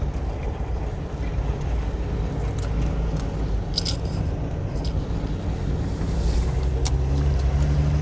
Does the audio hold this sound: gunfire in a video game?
no